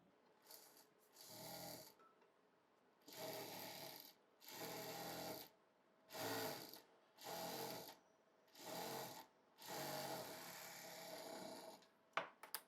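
A sewing machine stitches salwar fabric in repeated bursts of whirring, about eight runs of a second or so each, separated by short pauses, close and clear with no talking.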